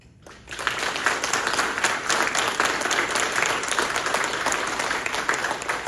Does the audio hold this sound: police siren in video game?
no